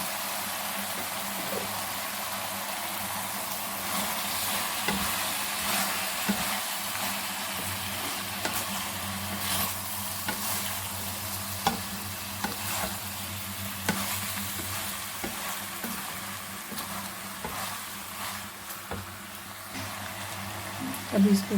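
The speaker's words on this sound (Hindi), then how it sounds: "अब मैं इसमें मैकरोनी डाल देती हूँ। ये मैकरोनी को मैंने उबाल के छान लिया, अब इसमें डाल देती हूँ।" Boiled, drained macaroni goes into a sizzling pan for chicken macaroni and is stirred, making a steady frying hiss with repeated spoon scrapes and light taps; a voice is faintly heard at times.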